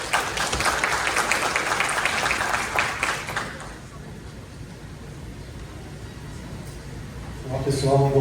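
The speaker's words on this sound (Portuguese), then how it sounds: "Uma salva de palmas ao professor Diego." Applause from the audience at a public hearing in Brazil, a dense wash of clapping for about three seconds that quickly fades, leaving quiet room tone before a voice begins to speak.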